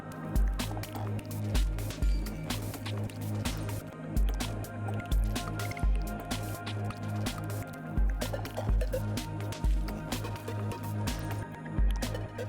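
Fake blood is dabbed and blended over a prosthetic gash wound with soft, wet squishing taps that come in a slow, irregular rhythm, close and fairly quiet.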